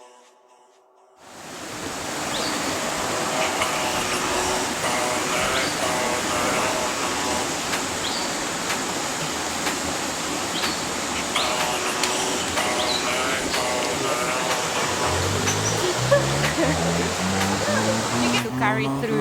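A river flowing along the Otter Trail in May, a steady, full rushing wash that fades in and then holds constant and fairly loud, with people talking over it.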